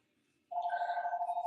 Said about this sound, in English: Stupid phone. That's all it keeps doing,